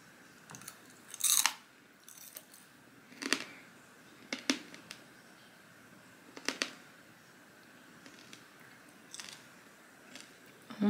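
Crunchy Trader Joe's snack being chewed close up, with a handful of sharp, irregular crunching bites spread across the stretch and quiet pauses between them, no talking.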